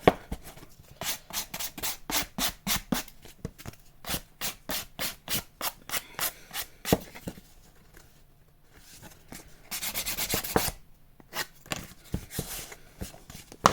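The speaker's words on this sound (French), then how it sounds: "On va passer un coup de lime autour." Rhythmic rasping strokes of a file rubbing around the edges of two cardboard pieces glued together, close and regular, pausing briefly before a denser burst of scraping.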